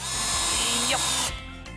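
A power drill driving a screw whirs steadily at close range, its pitch shifting briefly, then cuts off into quiet room noise.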